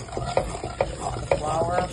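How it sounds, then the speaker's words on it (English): Milk stirred into flour in a hot pan for bacon scalloped potatoes, a steady frying sizzle with repeated scraping stirs of a spoon against the pan, close and moderately loud, no talking. "Okay, time to add the milk. I'm gonna add a little bit at a time at the beginning"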